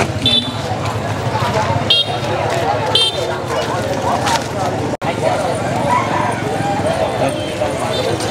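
A dog barks a few times at a crowded highland market in Sín Chéng, Vietnam. The short yaps sit within constant loud crowd chatter and bustle, with people talking nearby.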